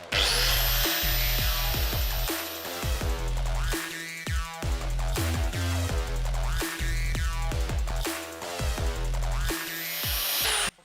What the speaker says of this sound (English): And now we will use the angular grinder with an 80 lamellar disc